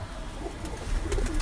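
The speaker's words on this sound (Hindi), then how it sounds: "टैडी कबूतर है जी, ये भी बहुत अच्छे रिजल्ट है इनके" Teddy pigeon cooing in a short, soft burst, a low murmuring coo that rises near the end, quiet and close amid faint background noise.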